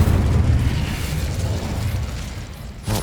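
An Incendio fire spell in Hogwarts Legacy explodes in a heavy, rumbling blast that rolls on and slowly fades, loud and close, with a brief sharp burst near the end.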